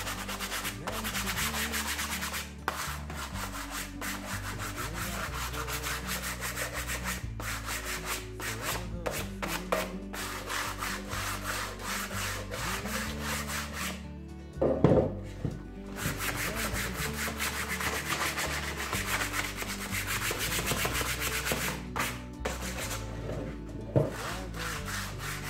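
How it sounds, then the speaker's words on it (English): Painted wood planter being lightly distressed by hand with 120 grit sandpaper, a continuous close rasping rub in quick back-and-forth strokes, under steady background music with a brief pause midway. "we're just going to take some 120 grit sandpaper and just lightly give it a distress."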